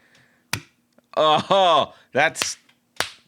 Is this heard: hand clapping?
yes